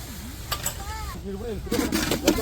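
Onion, ginger-garlic paste and chilli cooking without oil in a pot for a Hassan-style bamboo shoot gojju, giving a low, fairly steady sizzle with stirring scrapes while a voice speaks over it.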